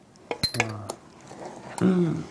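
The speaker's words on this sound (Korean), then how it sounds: "야채 넣고 이제 볶는 거예요" Vegetables and pork neck are tipped into a pan for stir-frying, with metallic clinks and clatters of utensils against the pan, followed by a soft sizzle, while someone talks nearby.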